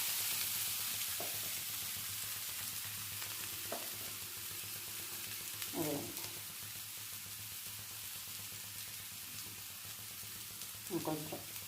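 Brinjal and drumstick curry with raw masala cooking in a pan, a soft steady sizzle with a few low stirring scrapes at intervals and short moments of faint talk in the background.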